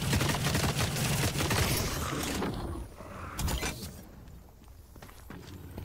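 Dense rapid gunfire from the video game The Cycle: Frontier, loud and sustained for a couple of seconds, then thinning into a few scattered shots and footsteps.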